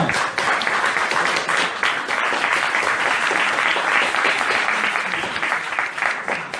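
An audience at a conference bursts into sustained, dense applause throughout, loud and close, with many hands clapping at once.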